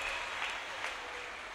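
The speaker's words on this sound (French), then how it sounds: "If you have understood what she said, clap better for Jesus." Church congregation applauding at a healing testimony service, a steady wash of clapping from many hands heard at some distance and fairly quiet, with no voices on top.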